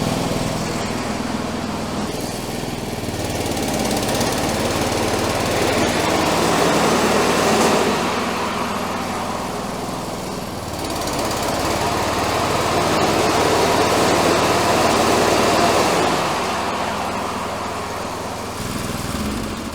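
An old tractor fitted with a new engine runs steadily after a restart, a loud, continuous small-engine drone that rises and dips slightly in intensity throughout, with no talking over it.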